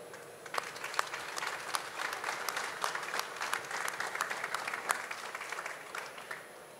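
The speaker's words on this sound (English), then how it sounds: "I think we should give our finalists one additional applause." An awards ceremony audience applauds steadily for several seconds, dense clapping with a few sharper claps standing out, moderately loud and with no voices.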